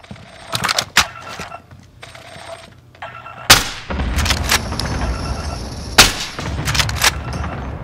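Cluster strike explosions in the video game Call of Duty: Modern Warfare land as several sharp, loud blasts and booming impacts, with a rumbling spread of noise between them and scattered gunfire earlier on.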